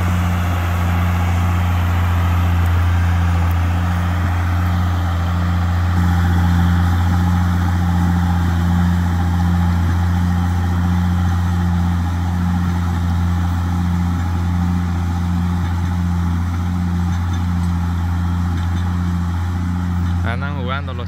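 A tractor drags a large, heavy harrow across a field, its engine droning steadily and loudly with a low constant hum; a voice talks over it.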